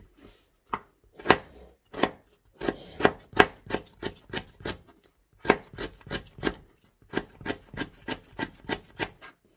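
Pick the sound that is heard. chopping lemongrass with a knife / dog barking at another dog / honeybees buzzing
chopping lemongrass with a knife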